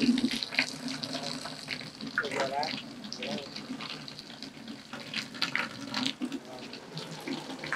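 Water sprays onto a stone coated roofing sheet, making a steady, dense wash and patter, heard from below the roof, with a voice faintly underneath.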